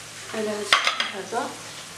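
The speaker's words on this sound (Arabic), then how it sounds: "غادي نحركوا البيض جيدا" Eggs with a pinch of salt are stirred in a bowl for a quick home dinner, giving a short soft scrape and a sharp utensil tap against the bowl over a quiet kitchen hum.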